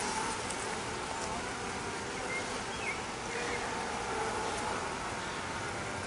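Honeybees from a swarmed hive buzz in a dense, continuous drone, steady and fairly close, with no talk over it.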